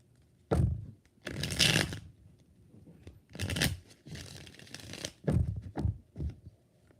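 Tarot cards being shuffled by hand nearby, several quick riffling bursts and soft slaps with short gaps between, close and fairly quiet with no talking.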